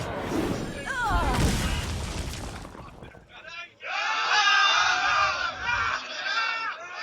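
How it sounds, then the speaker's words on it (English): Heavy rumble and roar open, then a large cinema crowd chants loudly in rhythmic rising waves during a Tavern Hero final, filling the room at close range. "the crowd is definitely being the player is definitely being chanted by the crowd here"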